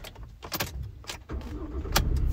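A 2017 Ford Transit Custom 2.0 TDCI diesel with a six-speed manual turns over from inside the cab with a few clicks and thumps, then catches and settles into a low, steady idle rumble close by.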